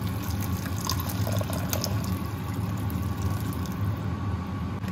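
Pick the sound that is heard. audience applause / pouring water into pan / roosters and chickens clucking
pouring water into pan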